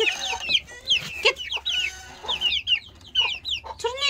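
Young chicks raised without a hen cheep and cluck in a busy, overlapping chorus of short high calls, close by and continuous with no talking.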